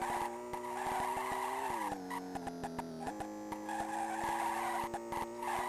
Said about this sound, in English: when you go off-road, it sounds like somebody wadding up some paper